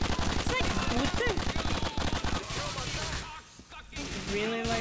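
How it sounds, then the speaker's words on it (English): Rapid automatic gunfire from a weapon in the video game GTA IV rattles loudly in dense bursts, briefly thinning before resuming, with voices and game sounds mixed underneath. "I really like the sound of this gun."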